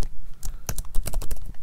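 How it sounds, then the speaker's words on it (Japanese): Fingers type on a Mac computer keyboard, close and crisp, with about a dozen quick clicks in an uneven rhythm after a short quiet start. "最初の1文字だけキーボードシフトボタンを押しますね"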